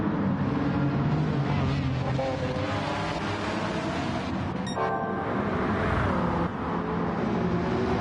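A BMW M3 CSL race car in Gran Turismo 7 roars through a race at the Nürburgring. Its engine makes a loud, steady drone that rises and falls with shifts, with other cars close by.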